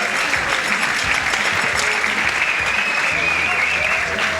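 Boxing crowd at the Otis Grant vs Mark Woolnough fight applauding in a dense, sustained roar of clapping that fills the arena evenly throughout.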